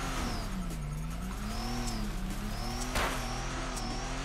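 Drift car in the video game Torque Drift on Falcon tires, engine revving steadily with wavering pitch as it slides and brakes, loud and continuous with a brief bump near the end.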